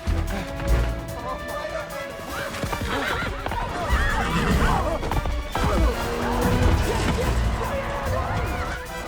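Horses whinny and neigh amid clattering hooves and crashing commotion at a horse racing track, with a busy, chaotic mix of sounds throughout and some voices mixed in.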